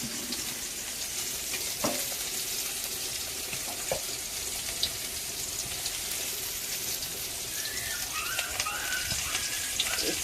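Black cumin and chopped onion sizzle in hot oil in a kadai, a continuous close frying hiss with occasional soft clicks and a faint higher chirping near the end, no one speaking.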